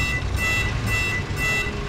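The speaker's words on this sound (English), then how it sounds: "Damn, there's an alarm in this car." A car alarm blares in the mobile video game City of Outlaws, a loud, continuous repeating electronic wail that fills the whole short stretch with steady, pulsing tones and no pauses.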